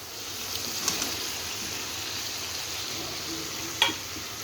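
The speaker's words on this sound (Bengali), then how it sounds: "কষানো হয়ে গেছে, আমি টমেটোগুলো দিয়ে দেব।" Tomatoes sizzle and fry in a pan of koi fish curry, a steady soft hiss with a few brief clinks of stirring.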